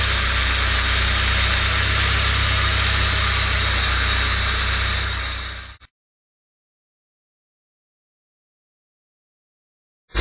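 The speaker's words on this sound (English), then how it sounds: "Engine seems to be running stable, no belt squeal." Car engine idling after a Jackson Racing supercharger install, a steady close rumble that runs for about six seconds and then cuts off abruptly into silence.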